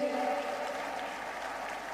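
Steady applause from a festival audience at Gorakhpur Mahotsav, dense and sustained clapping from a large crowd with no pauses.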